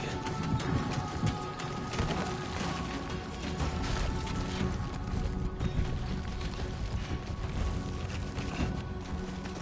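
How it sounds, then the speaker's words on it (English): Constant, dense rain hiss in the video game Death Stranding 2, with a heavy, even downpour texture and no voices. "Great. Rain. Gotta move."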